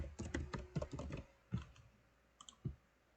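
Keystrokes tapped on a computer keyboard while filling in a description field of an Excel form, delivered in short irregular bursts of close, crisp clicks with brief pauses between them.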